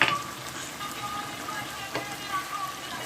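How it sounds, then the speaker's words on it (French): Vegetables frying in a pan for a shrimp and beef rice sauté, a soft continuous sizzle with faint crackles and a light stirring clink, fairly quiet and steady. "tournez les légumes afin que les légumes soient grillés"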